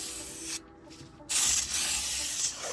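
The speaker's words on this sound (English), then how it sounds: "Now you make sure you spray it down, brake cleaner." Brake cleaner sprayed onto a front brake rotor of a 2013 Ford Escape Titanium 2.0T: a close, loud hissing burst, a short pause, then a longer steady spray.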